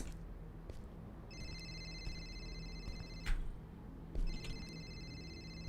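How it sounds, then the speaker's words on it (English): Phone ringing in the video game Beyond The Evil, set in an abandoned house: two bursts of a high, steady electronic ring with a short gap between them, fairly faint over a low background hum. "I hear the phone ringing now"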